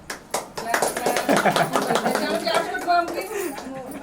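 A group of people clap their hands at a puja gathering, a close, lively patter of many overlapping claps mixed with chatter and voices.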